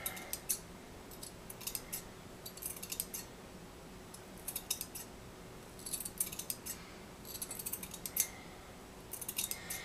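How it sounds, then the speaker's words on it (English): Scissors snipping through furnace filter material in short bursts of crisp cuts, clusters of quick snips separated by brief pauses, quiet and close against a faint background hum. "Now you can cut out circles from the furnace material in ever smaller circles"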